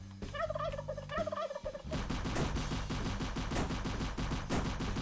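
Two loud turkey gobbles come first, then a sustained burst of rapid automatic gunfire from an AK-47 in the game Stricken Chicken, the shots dense and continuous to the end.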